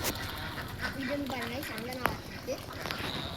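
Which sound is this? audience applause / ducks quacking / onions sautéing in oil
ducks quacking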